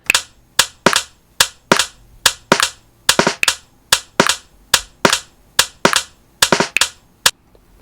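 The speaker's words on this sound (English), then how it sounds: "listen when it has the snare and the hi-hat playing with the metronome." A swung drum pattern of snare and hi-hat hits playing against a metronome, sharp isolated strikes falling in an uneven, shuffling rhythm, close and dry with no kick drum.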